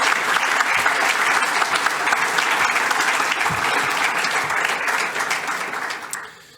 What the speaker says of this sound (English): But can I also ask for a special applause for the team who made all of this